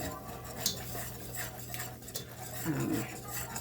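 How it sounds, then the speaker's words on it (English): A whisk scrapes and taps against a pot as flour is stirred into melted butter for baked Southern-style mac and cheese, with a soft continuous rattle and a few brighter clinks close by. "Now we're going to whisk this together and cook the taste"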